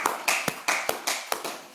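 Hands clap in a church service, around nine crisp, evenly spaced claps in a steady rhythm, close and fairly quiet, with no talk over them.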